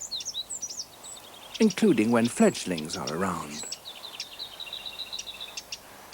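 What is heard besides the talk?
wren alarm call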